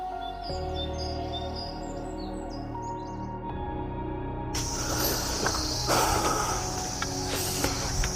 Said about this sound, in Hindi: कभी किसी पंछी के गुनगुनाने की आवाज आ रही थी,